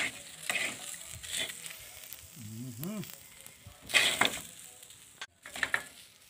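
Rice and egg for kalo kalo cooking in a dry pan with no oil, giving a soft, steady sizzle with a few scraping stirs and a short voice-like tonal sound partway through.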